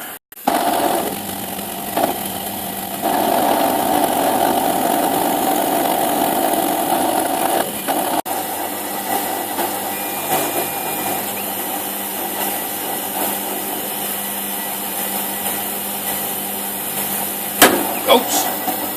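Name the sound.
spindle moulder running with power feed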